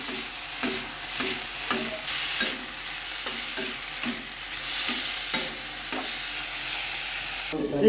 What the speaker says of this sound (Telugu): ముందుగా వేయించి పెట్టుకున్న వెజిటేబుల్స్ అన్నీ వేస్తున్నాను. బాగా మిక్స్ చేసుకోవాలి కింద నుంచి మీదకి.